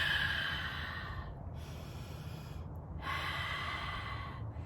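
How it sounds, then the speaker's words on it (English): Slow, deep breathing in and out for stress relief: long airy inhales and exhales, close and fairly loud, with brief pauses between breaths and no speech. "practice breathing regularly, deep breathing, like breathe out, breathe in and breathe out"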